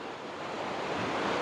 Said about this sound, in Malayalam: പുഴ നന്നായിട്ട് നിറഞ്ഞ് പതിഞ്ഞൊഴുകുന്ന കാഴ്ചയാണ്